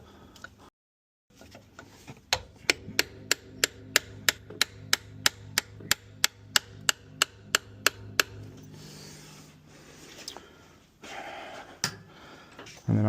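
A hammer strikes a two-stroke jet ski cylinder head to free it from its bolts, landing about fifteen sharp, evenly spaced metallic blows in a steady rhythm before stopping, with quiet talk around it.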